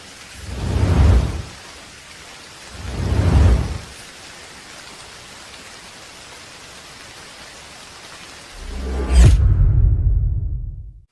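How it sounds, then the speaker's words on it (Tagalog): Heavy rain pours under rumbling thunder, with two deep booming rolls early on and a louder crash near the end before an abrupt cutoff. "Ang lakas ng ulan, bakit di ka sumilong?"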